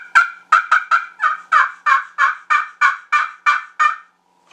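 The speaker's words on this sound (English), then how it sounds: "And you cluck with it, everything." A series of about a dozen clucks and yelps on a turkey call, evenly paced and fairly close, ending in silence.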